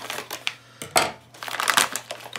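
Scissors snip and crunch through the cardboard and plastic packaging of an Insta360 X3 camera, heard up close as a series of irregular crisp cuts and crinkles, with no talking.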